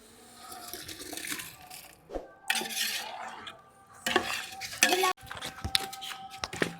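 Masala and boiled prawns are stirred in a pot over a village wood-fired stove for prawn biryani. Irregular bursts of clattering metal and scraping come close by, with voices talking between and over the strokes.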